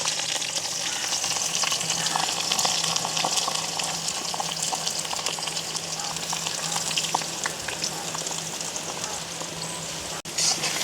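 Chopped onion and green chillies frying in hot oil for village-style egg rice, a loud continuous crackling sizzle held steady throughout at close range, with no talking.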